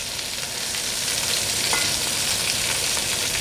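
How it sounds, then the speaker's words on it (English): Red onions in long strands sizzle and crackle steadily in a pot for a sausage and bean casserole, with a soft scrape of stirring partway through, close and continuous with no voices. "So we get these onions moving around in the pot"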